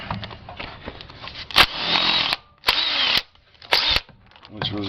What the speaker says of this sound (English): I'm gonna try to get this center bolt out,